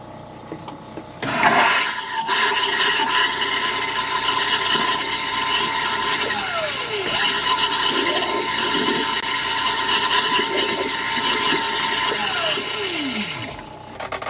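An RV toilet is flushed during winterizing of a Winnebago Wonder: a sudden loud rush of water, then a long steady roaring flow with gurgling, close by, lasting over ten seconds before cutting off.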